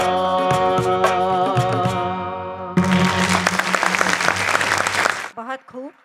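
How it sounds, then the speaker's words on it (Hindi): Audience applause breaking out at a live Hindi song performance, loud dense clapping rising right after the sung music ends, then fading as a voice begins speaking. "बहुत बहुत शुक्रिया एक बार फिर आपकी तालियों का"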